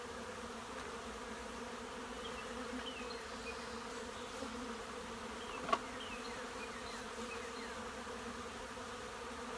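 A dense, steady hum of many honeybees buzzing together in a hive, close and continuous, with one brief knock partway through.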